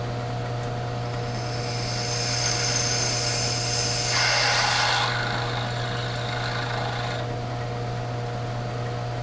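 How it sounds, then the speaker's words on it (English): A steady mechanical drilling whine with a low motor hum, rising briefly in intensity midway as the bit works through a Remington gun rest, then settling back. "that should take care of the hole drilling"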